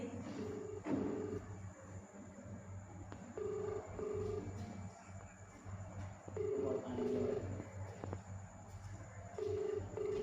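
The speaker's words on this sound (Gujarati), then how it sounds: "ફાઇનલી મિત્રો રિંગ વહી ગઈ છે" A phone call rings out as repeated paired ringback tones in a steady on-off rhythm, faint and slightly distant, with low background noise and no talking.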